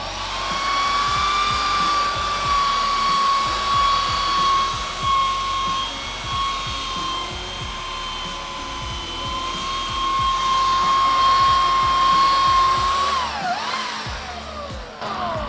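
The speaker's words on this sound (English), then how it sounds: "This is a pretty heavy duty belt sander. Let's give this one a try." A heavy-duty belt sander runs from a Bluetti EB150 portable power station, its steady high motor whine and grinding drone holding loud and close for about thirteen seconds before winding down.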